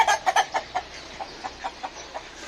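Chickens clucking on a farm as a hen flees a rooster, a series of about a dozen short, sharp clucks, quick and clustered at first, then spaced out and softer, fairly close.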